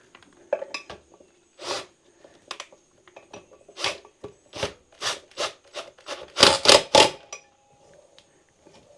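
A few distinct knocks and scraping rubs as a centrifuge bowl in a waste-oil diesel fuel setup is tapped and turned by hand, in separate bursts that grow louder and quicker near the end, with no voices.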